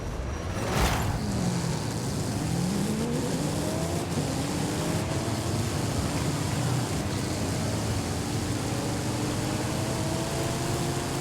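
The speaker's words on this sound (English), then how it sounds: "it does get up, good off the line just because of all the torque from the diesel engine" In Forza Horizon 5, a heavy Lincoln Continental fitted with a diesel engine accelerates off the line, its engine note climbing steadily in a continuous rising drone at moderate volume with no speech.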